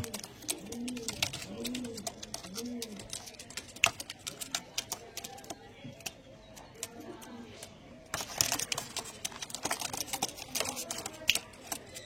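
Pigeons in a cage coo in repeated soft, throaty phrases up close, mixed with dense clicking and scratching of feet and wings on the cage, with brief quiet stretches between bursts.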